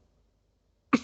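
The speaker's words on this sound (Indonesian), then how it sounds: "Mohon maaf, saya batuk." A man gives one short, sharp cough after a long quiet stretch, close to the microphone, while going through a spreadsheet formula tutorial.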